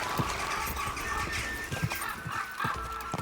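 Horse hooves clatter in a fast, steady clip-clop during a ride in Kingdom Come Deliverance 2, the beats close and busy over a dense game soundscape with no speech.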